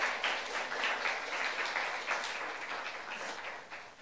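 Church youth congregation applauding during a sermon, a steady wash of many hands clapping at moderate level, fading slightly toward the end with no speech over it.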